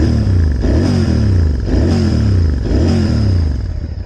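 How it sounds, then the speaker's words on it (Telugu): A 2025 Royal Enfield Interceptor 650 fitted with a Moto Torq exhaust idles up close, its steady, loud twin-cylinder throb beating in even pulses with a slight rise in revs, no voices over it. "బైక్ సౌండ్ అయితే వినిపిస్తా."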